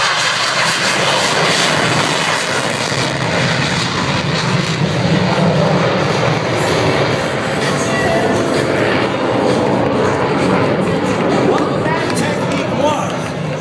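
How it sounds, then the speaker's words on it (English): A jet aircraft lands on a carrier deck and its throttles are shoved forward, giving a loud, continuous engine roar that holds steady and then surges slightly throughout, heard at an air show. "Now listen and watch as he plants it and then shoves the throttles forward"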